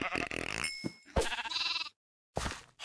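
Blocky Minecraft sheep bleating, several short nasal calls in quick succession with brief gaps and a final bleat after a pause, close and clear with no talk over them.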